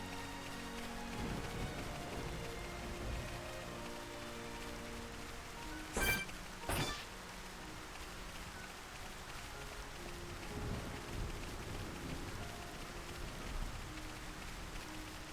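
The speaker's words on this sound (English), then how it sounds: "the rain is pretty in its own way" Rain in the video game Xenoblade Chronicles: Definitive Edition, a soft steady hiss of rainfall throughout, faint and even, broken by two brief sharp noises in the middle.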